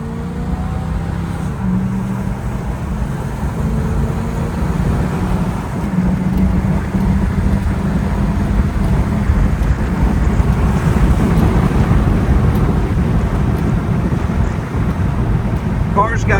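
A 1968 Oldsmobile 442 convertible with its 400 V8 accelerates, a steady deep engine rumble heavily buffeted by wind noise as it drives. No one talks.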